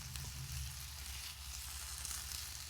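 Corned beef sizzles and fries steadily in a hot pan, a dense, even crackle that runs close and continuous throughout with no voices.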